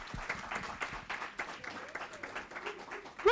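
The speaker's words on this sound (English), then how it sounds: "So please join me in giving her a round of applause." An audience at a talk on diabetes and eyesight loss gives fairly quiet applause, scattered claps forming a loose, uneven patter that rises and falls over a few seconds.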